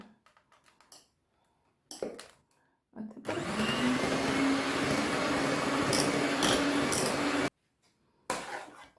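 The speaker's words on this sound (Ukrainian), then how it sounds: "І теж блендером я перемішаю спочатку ось так, щоб не лилося всі боки." A blender whirs loudly for about four seconds, mixing a thick cheese batter for an Easter paska, framed by clinks and taps of utensils before and after.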